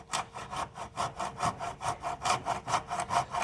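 A hand saw cuts across a five-inch wooden board with a steady back-and-forth rasp, about a dozen even strokes at a brisk rhythm, close and clear with no talking.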